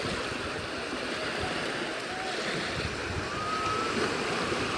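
Sea waves washing onto a sandy beach, a constant soft rush of surf with faint wind, distant and steady with no clear speech.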